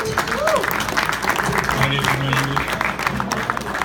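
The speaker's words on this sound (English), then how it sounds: "How about a round of applause?" A round of applause follows an innovation stage presentation at a packaging expo, a dense patter of clapping from the crowd with a speaking voice running over it.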